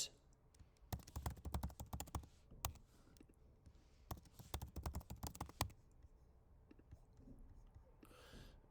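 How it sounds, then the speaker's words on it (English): Faint, quick keystrokes on a computer keyboard come in two dense bursts of rapid clicking while a password is typed, with quiet pauses between and a soft rustle at the end. "I'm going to type in a new password."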